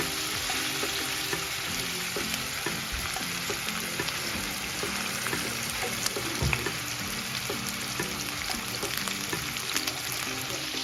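Continuous crackling sizzle of chicken frying in a hot pan, close and steady throughout, with occasional light clinks and stirring.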